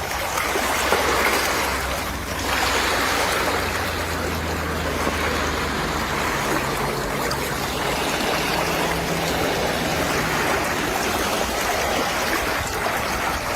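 Polluted stream water pours steadily into the sea, a dense, continuous rushing wash that holds at a constant level throughout with no voices.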